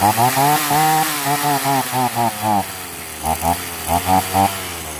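A hard-starting chainsaw that is short of fuel runs loud and close, revving in rough, uneven bursts that rise and fall, with brief sputtering dips between the pulses.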